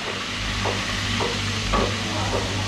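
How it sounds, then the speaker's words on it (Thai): Fish frying in hot oil in a home kitchen, a loud, steady sizzle with a low hum underneath and a few regular stirring scrapes. "จะต้องทอดปลาก่อนท่านผู้ชม"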